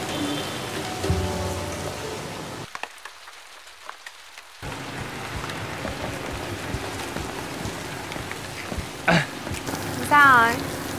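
Steady rain patters on a surface, briefly cutting out, with faint voices and a few short clunks nearby.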